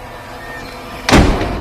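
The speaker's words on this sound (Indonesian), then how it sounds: "segera membanting pintu itu sebelum pergi keluar" A heavy door slams shut once with a loud, booming thud that rings briefly over a low, steady room hum in a haunted house.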